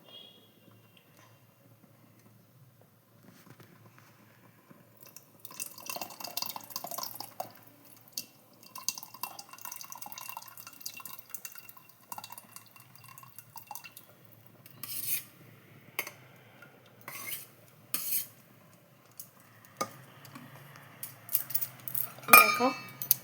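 Mutton broth poured into a curry with green chillies and kasuri methi, then stirred: faint liquid trickles and drips followed by scattered scraping and clinks of a utensil against the pot, sparse and quiet.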